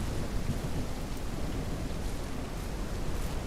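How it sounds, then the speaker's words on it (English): In the Ranch Simulator video game, heavy rain pours down in a dense, steady hiss, with a low rumble of thunder rolling underneath throughout the short stretch. "Sounds like it's pouring down rain."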